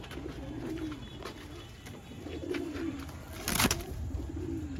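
Pigeons at a pigeon sale and show give a steady series of low, rhythmic coos near at hand, with a sharp burst of noise near the end.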